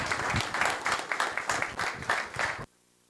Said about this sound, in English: let's give Natalie another round of applause.